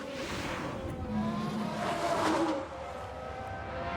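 Tires locking up and skidding on an F1 Manager 1991 racing game car, a moderate screeching skid with engine noise that swells near the middle and then eases, heard alone.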